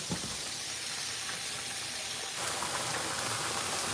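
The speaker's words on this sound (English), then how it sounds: "See that chicken sizzling in there?" Steady, close frying sizzle of chicken in a cast iron skillet: a dense hiss of spitting fat that swells slightly louder partway through, with no talking.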